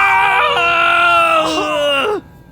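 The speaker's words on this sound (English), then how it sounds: "The brothers collapse and scream." Two brothers scream in pain as their bones snap, a loud, strained, wavering cry sustained for about two seconds before cutting off abruptly.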